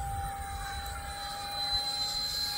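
Electric ducted fan RC model jet of the FF-117V2 type flying at full throttle, giving a steady, fairly loud whine and rush that holds through the whole stretch with slight swells, no voices over it.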